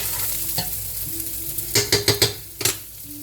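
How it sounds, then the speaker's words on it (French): Onions sizzle steadily in a hot pan with a constant hiss, beginning to catch and brown, while a utensil scrapes and clatters against the pan in a quick run of close stirring strokes. "Faut que ça cuise mes oignons."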